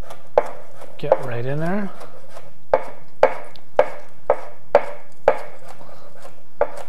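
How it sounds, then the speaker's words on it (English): A knife chops green onion on a cutting board in a steady run of about nine sharp, close taps, with a brief voice speaking early on. "we're going to chop up some of this green onion"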